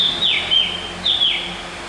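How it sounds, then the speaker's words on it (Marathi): A black drongo sings at dawn, two bright, clear whistled phrases with sliding notes, close and loud against a quiet background with no talk. "आता हा पहाटे गाणारा पक्षी आहे ब्लॅक ड्रोग"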